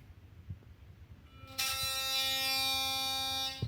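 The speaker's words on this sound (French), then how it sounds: "Donc là, on doit allumer la brosse à dents pour commencer." Philips Sonicare 6500 electric toothbrush switched on, a high steady electric buzz starting abruptly after quiet handling noises and holding loud and close until it stops.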